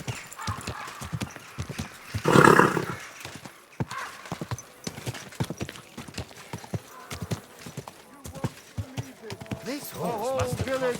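Horse hooves clip-clopping steadily in the medieval open-world video game Kingdom Come: Deliverance II, with a loud whinny burst early and another neigh near the end, amid game ambience.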